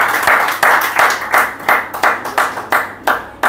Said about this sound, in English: So a big round of applause for everybody who comes to give the presentation here